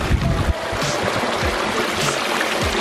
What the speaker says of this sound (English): So I really like this waterfall, Chris.